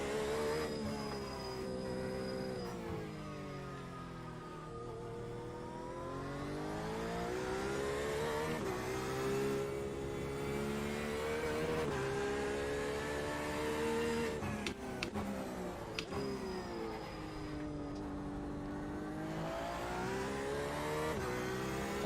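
Porsche RSR race car engine in iRacing practice at Daytona, pulling out of the pit lane: a loud, steady engine note that rises and falls with the revs, with gear shifts near 3 and 16 seconds and no voices.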